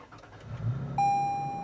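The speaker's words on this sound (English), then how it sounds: "Now we'll jump in and start the 4Runner." A 2022 Toyota 4Runner TRD Pro is started by push button: a brief low engine turnover, then a clear sustained electronic chime tone that holds steady until the end, with no talking.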